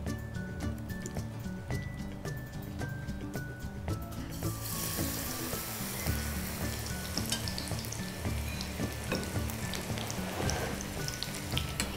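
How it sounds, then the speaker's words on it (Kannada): Onion pakoda frying in hot oil, a steady close sizzle and bubbling crackle that swells into a louder, denser fizz partway through, with a faint melodic background tone and no talk. "ಎರಡು ಕಡೆನೂ ಚೆನ್ನಾಗಿ ಕರಿಬೇಕು ಬೇಗ ಸೀದೋಗುತ್ತೆ ಇದು ಇಲ್ಲಾಂದ್ರೆ"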